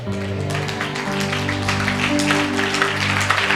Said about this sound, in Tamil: என்னையா இப்படி கைத்தட்டு?